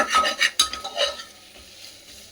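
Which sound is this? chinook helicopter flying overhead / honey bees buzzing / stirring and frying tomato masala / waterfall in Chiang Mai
stirring and frying tomato masala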